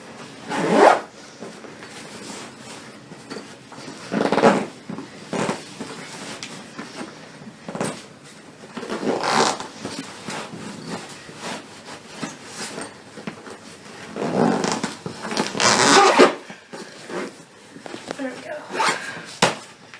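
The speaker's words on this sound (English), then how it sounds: "I can probably close it up with the zipper." A zipper closing a medium duffle bag rasps close by in several short bursts separated by pauses, with soft rustling of fabric between pulls.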